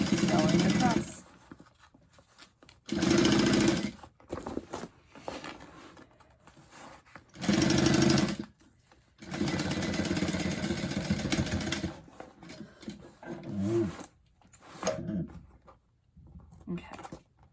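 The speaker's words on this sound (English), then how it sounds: "Sewing up my pocket now. I folded in the edges and I'm just sewing across." A sewing machine stitching across a folded-edge bag pocket on a frame runs in several loud bursts of steady mechanical whirring, separated by short pauses and quieter handling sounds.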